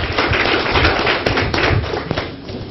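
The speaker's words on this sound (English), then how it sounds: "Let's give our panelists a round of applause." Audience applauding panelists at an evening community forum in Polk County, Florida, a dense, steady clatter of many hands clapping close and loud, with a few sharper taps standing out, easing slightly toward the end.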